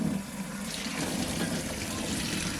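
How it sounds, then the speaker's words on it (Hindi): Water gushes steadily as boiled chickpeas are drained through a strainer into a sink, a loud continuous splashing pour with no talking. "अब हम इसको छाननी में डालकर स्टेन कर लेंगे"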